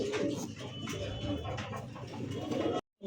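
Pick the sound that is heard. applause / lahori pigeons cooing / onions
lahori pigeons cooing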